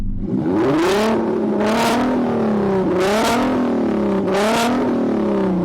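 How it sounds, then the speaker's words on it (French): An R32 engine revving hard four times in a row, each rise and fall of pitch loud and close, with a continuous engine drone between the pulls. "Maintenant, écoutons ton moteur R32, Miguel."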